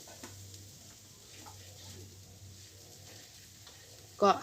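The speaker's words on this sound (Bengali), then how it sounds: "মাংসগুলোকে কিছুক্ষণ পরপর নেড়ে দিব কারণ এগুলো আমরা কম তেলে ভাজছি" Meat frying in a little oil for a burger, stirred now and then: a quiet, steady sizzle with faint spatula movement near the pan, ending in a brief louder clatter.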